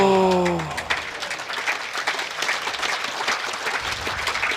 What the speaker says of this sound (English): A lot of appreciation from the crowd